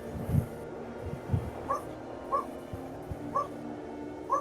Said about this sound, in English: You hear that? I hear a dog.